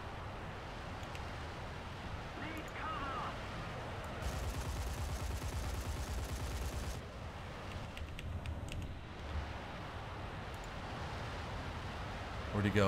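Rear gunners of an IL-28 jet bomber in War Thunder firing machine guns, heard as rattling bursts under engine drone, with someone talking over the action.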